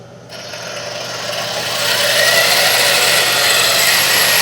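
Toy RC tank lower hull running at full throttle while spinning in place, a steady whining motor and gear drone that swells louder after the first couple of seconds and then holds.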